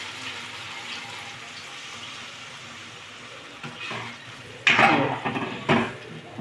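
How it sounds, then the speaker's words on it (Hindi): Water is poured into a pan of spiced potato curry (aloo sabzi) as it cooks, giving a few short splashing bursts over a quiet kitchen background. "अब इसमें थोड़ा सा पानी डालेंगे जैसे कि रसेदार सब्जी बन जाए।"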